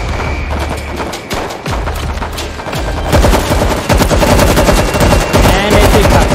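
Rapid bursts of automatic gunfire and single shots in the zombie shooter World War Z Aftermath, loud and close, with a heavier, denser volley in the second half.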